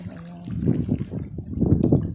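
Water gurgles and splashes steadily nearby in an irrigation canal, a low churning flow with uneven surges.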